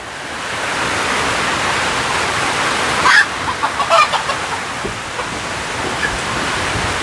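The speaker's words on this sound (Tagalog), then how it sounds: "manok." A chicken clucks a few short, sharp times at close range over a steady roar of wind or water noise outdoors near a forest home.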